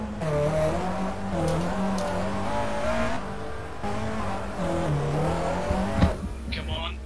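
A touring race car stuck in gravel in the GTR 2 racing game, its engine revving loudly with wavering pitch, steady and close, with crunching scrapes near the end and someone talking over it.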